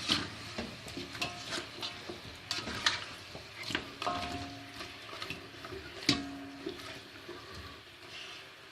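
Aloo chicken frying over a high flame in a pan, with a steady close sizzle broken by irregular ticking scrapes and clinks of a stirring utensil, no voices.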